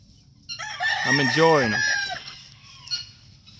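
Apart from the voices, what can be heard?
Kelso chickens clucking and crowing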